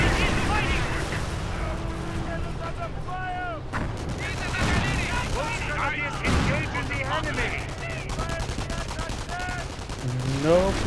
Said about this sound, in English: Pack 30 firing against the M10.